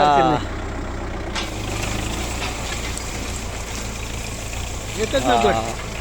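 A tractor pulling a cotton stalk puller on a field trial runs with a steady low engine drone throughout, with voices talking briefly near the start and end.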